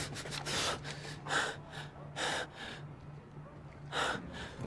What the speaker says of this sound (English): What is this breathing?